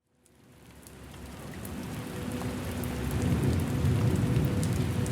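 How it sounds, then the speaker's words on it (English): A storm breaks over a hillside: heavy rain pours down on surfaces with thunder rumbling beneath. It builds from near silence into a dense, loud, steady downpour with no voices. "From out of nowhere, a storm was upon the hillside."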